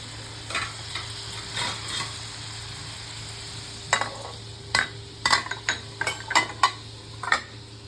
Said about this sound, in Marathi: तळून घ्यायचं चांगला लसूण.